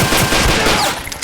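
Rapid automatic gunfire from the shooter game Blade of Agony, a dense, loud burst of shots lasting about a second.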